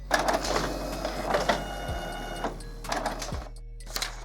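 An Epson Stylus Photo R340 inkjet printer runs a nozzle check page: the print head whirs and rattles in repeated mechanical bursts, with a couple of clunking feed thumps, close and fairly loud, no talking.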